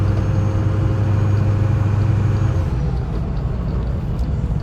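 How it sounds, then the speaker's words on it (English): A Ford 6.0 diesel truck fitted with a cold air intake drones loudly and steadily from the cab, a deep engine rumble with turbo whoosh that eases slightly partway through. "more turbo noise, which is amazing"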